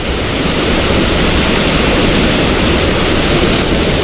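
Swollen, flooding river water surges by in a loud, unbroken roar, close and continuous with no voices over it.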